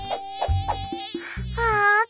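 A cartoon mosquito buzzes in a short animated sequence, quick whiny tones and blips ending in a sustained bright buzz, close and clear with no talking.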